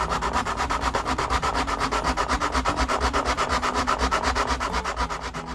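Rhythmic sanding strokes on a bamboo bike frame scrape back and forth steadily and close up, a continuous rough rubbing that fades slightly at the end.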